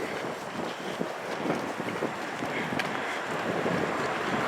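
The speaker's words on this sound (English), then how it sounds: "So we're going to be a bit windy, I know it is." Blustery wind buffets the microphone during an outdoor walk through Burnley town centre, a continuous rumbling roar with gusts and no talk.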